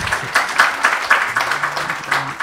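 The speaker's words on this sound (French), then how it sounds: "Je crois qu'on peut aussi applaudir Laure Lamy qui était juste avant." Conference audience at a French research symposium applauding a presenter, a steady, moderately distant patter of many hands clapping in an uneven rhythm, with no voices over it.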